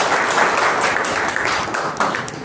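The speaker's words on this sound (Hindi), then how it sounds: "एक मरतबा तालियाँ बजाएं।" Audience clapping at a mushaira poetry gathering in Malegaon, a brief burst of fairly dense applause in a hall, moderately loud and continuous for a couple of seconds.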